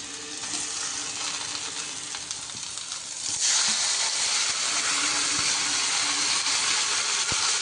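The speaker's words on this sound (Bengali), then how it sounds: "এবার আমরা ওই ম্যারিনেট করা চিকেনটা দিয়ে দিচ্ছি" Marinated chicken goes into a pan of fried onions, and a steady frying hiss swells louder and brighter partway through. The sizzle stays continuous and close, with faint stirring ticks and no talk.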